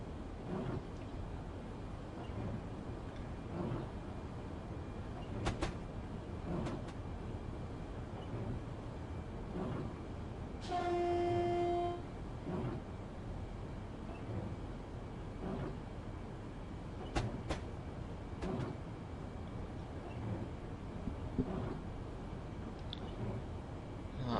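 Low continuous rumble of a train rolling along in the Train Simulator video game, with faint rhythmic clicks and a brief two-tone horn blast partway through.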